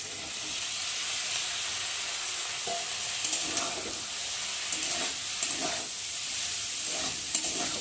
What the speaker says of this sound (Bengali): আর এখন পাস্তাগুলোকে ঢেলে দেবো